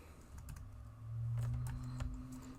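Soft, quick keyboard taps clatter faintly over a steady low hum, a short burst of typing close by.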